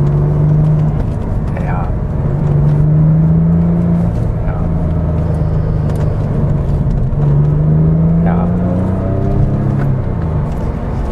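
A 1999 Porsche 911 Carrera 4 Cabriolet (996) runs with a steady, loud engine drone that rises and resettles as it shifts into second gear for a curve, with someone talking throughout.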